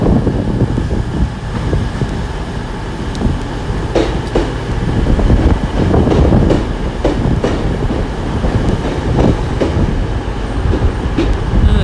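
A two-coach Class 150 diesel passenger train pulls into Exeter St David's station, its wheels clattering steadily over the rails, with engine rumble and occasional squeals building and easing, close and loud throughout with no talk.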